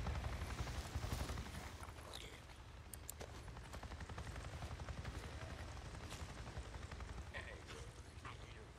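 A helicopter's low rotor rumble drones steadily throughout in the video game Days Gone, with sharp bursts of gunfire and other game effects layered on top.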